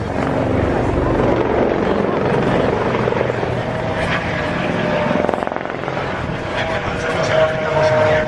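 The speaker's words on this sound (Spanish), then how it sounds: "Mira ese helicóptero." A helicopter flies past during an air show in La Coruña, its loud, steady rotor chop and engine roar filling the whole stretch, with people talking underneath.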